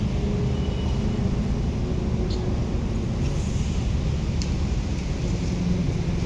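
Heavy road traffic near Ampang Park in Kuala Lumpur, a constant dense rumble of car and bus engines with broadband road noise, steady and close with no break.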